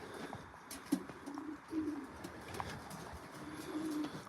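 Racing pigeons coo softly in low, repeated purring calls, close by, with light rustling and faint chirps in the background of a loft.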